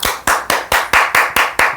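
Eight sharp hand claps in a steady, even rhythm, close and loud, with no talking, from a podcast host in a studio setting.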